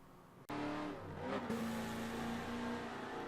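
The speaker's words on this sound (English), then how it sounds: "Car number 3 to go around the Sonoma Grand Prix circuit formation was this, the 1970 Buick GSX." In Forza 7, a 1970 Buick GSX with 360 brake horsepower roars on the Sonoma Grand Prix circuit. Its engine note bursts in suddenly and then holds a loud, steady drone, with gear-like shifts in pitch.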